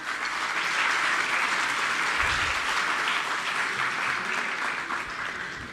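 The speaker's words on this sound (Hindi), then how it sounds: "इनके लिए ज़ोरदार तालियाँ।" Loud, steady applause from an audience fills a school event at a government school, a dense continuous clatter of many hands without a break.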